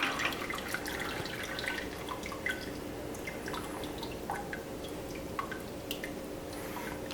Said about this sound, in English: Let it drip for a second.